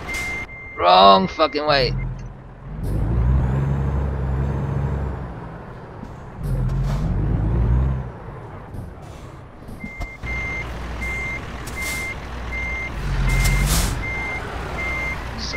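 A heavy truck reverses in American Truck Simulator, its engine rumbling and air brakes hissing as evenly spaced reversing beeps repeat steadily. Someone talks over it in bursts.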